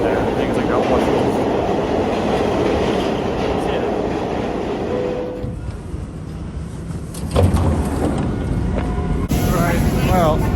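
New York subway train riding underground toward West 4th Street, a loud steady rumble and rattle of the car on the rails, with brief screeching and clatter, continuous throughout.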